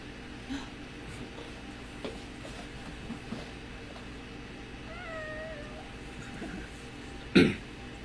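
A pet kitten gives a couple of soft, short meows over a faint indoor background hum, with a brief rustle near the end.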